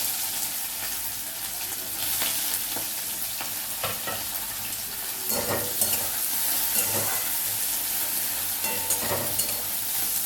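Chopped onion fries in hot oil left over from frying chicken, giving a steady, close sizzle with occasional stirring scrapes and clinks throughout.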